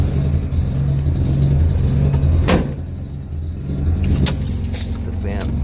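Car engine just started and idling while it warms up, a steady low rumble close by with a few sharp clicks and rattles. A voice speaks briefly over it.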